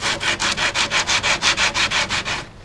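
Cedar wood for a live edge picnic table is hand-sanded with coarse 50 grit sandpaper, a close, rhythmic scratchy rasp of about a dozen even back-and-forth strokes that stop near the end.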